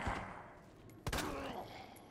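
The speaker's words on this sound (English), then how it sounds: "I just shot you in the head with a shotgun. Then a pistol." In the Resident Evil 2 Remake video game, a shotgun and a pistol fire; one sharp, loud blast stands out midway against a quiet, low background.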